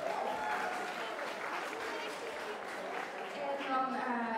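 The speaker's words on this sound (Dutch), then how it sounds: "Ja, dat is een applaus" At a school pop evening, an audience applauds, a fairly faint, steady patter of many hands blended with crowd murmur and voices in the background.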